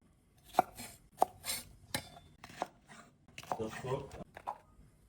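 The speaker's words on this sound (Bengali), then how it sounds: "এভাবে আমি সবগুলো বেন্ডি কেটে নিচ্ছি" Okra is cut with a knife on a board, sharp irregular chops and taps close by with quiet rustling between strokes and faint speech.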